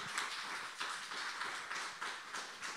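An audience applauds the Scarabocchio brothers at a public talk, a faint, steady patter of many hands clapping from a distance, with no speech over it.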